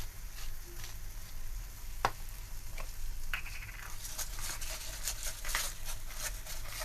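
Tomato masala with spices sautéing in a pan makes a soft, low sizzle, broken by occasional stirring clicks and scrapes.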